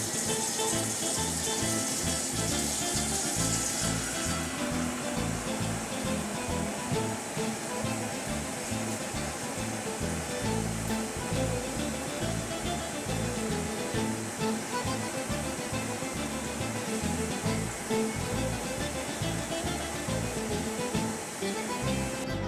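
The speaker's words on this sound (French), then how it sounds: "Cette casserole, il faudra la remplir d'eau" Water runs continuously from a tap into a saucepan, a steady close rushing and splashing that lasts throughout.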